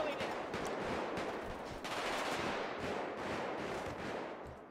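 Rapid automatic gunfire in GTA 5 roleplay, bursts of shots crackling loudly and continuously with brief dips, no talk over them.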